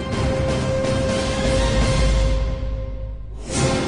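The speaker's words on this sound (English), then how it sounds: "you can hear that crowd in the background." A dense, steady crowd roar at a NASCAR Hall of Fame induction fills the clip, loud and continuous, fading briefly near the end before swelling again.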